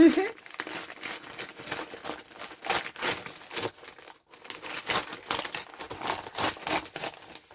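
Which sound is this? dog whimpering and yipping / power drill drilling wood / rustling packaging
rustling packaging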